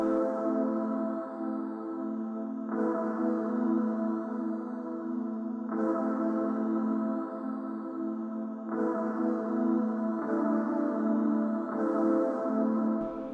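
Layered synth patches from the Karanyi Wavesynth library, a traditional key sound combined with an atmospheric texture, play sustained chords that shift about every three seconds at an even level, with no voices.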